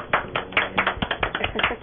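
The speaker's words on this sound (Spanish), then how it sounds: "Un fuerte aplauso para ella." Studio audience applause on a television show: a short burst of fairly sparse, rhythmic hand claps, close and moderately loud.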